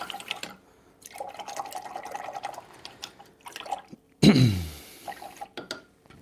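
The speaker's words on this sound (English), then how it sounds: "Grab that flat brush again, wash it." A flat paint brush swishes and is rinsed in a water jar, giving soft drips and splashes and one sharp slosh near the end, close and fairly quiet, with faint movement between.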